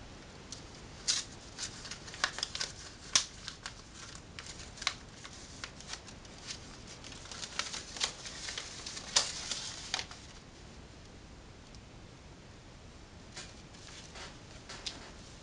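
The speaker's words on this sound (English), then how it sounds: "you want to take the back of your transfer tape off" Transfer tape backing being peeled off, heard as faint crisp crackles and quick papery ticks in an irregular scatter, close and quiet.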